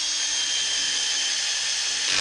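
A power driver runs steadily at a bright, high pitch while screws go into the anti-vibration mount of a Husqvarna 572XP chainsaw. The whine is close and continuous, with no voices.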